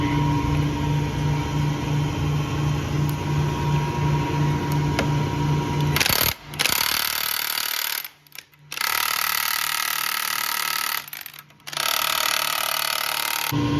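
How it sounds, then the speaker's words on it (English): A palm nailer serves as an air hammer on a rusted hot water pump seal. A dense, rapid mechanical rattle with a steady hum runs throughout, changing character partway and broken by a few brief pauses. "I'm going to use my little palm nailer as an air hammer."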